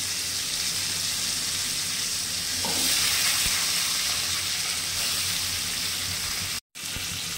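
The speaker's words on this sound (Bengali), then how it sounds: "কপিটা একটু লাল করে ভেজে নেব। কপির সঙ্গে আলুটাও দিয়ে দেবো।" Cauliflower florets and potato pieces sizzle in hot oil in a pan, a constant bright crackling hiss with occasional stirring scrapes, close and steady, broken by one brief cut near the end.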